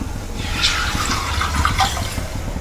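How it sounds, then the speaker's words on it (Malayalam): Tamarind water is poured into a pot of home-style Kerala fish curry, making a close, gushing, splashing pour that swells and eases over a few seconds. "പുളിവെള്ളം ഒഴിച്ചു കൊടുക്കുക പുളിയും വെള്ളവും കൂടി ഒഴിച്ചു കൊടുക്കുക"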